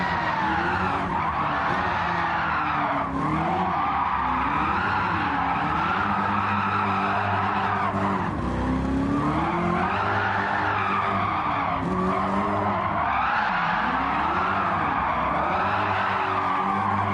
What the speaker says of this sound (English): Let's drift a bit.